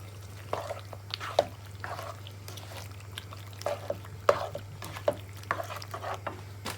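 Drained pasta being stirred into a creamy spicy jerk sauce, soft wet squelches and sticky slaps in irregular bursts, quiet and close over a constant low electrical hum.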